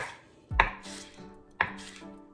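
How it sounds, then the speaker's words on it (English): Two crisp knife strikes through spring onions land on a chopping board about a second apart, each a sharp thud with a ringing tail. "next up we need to cut the spring onions. So we do diagonally"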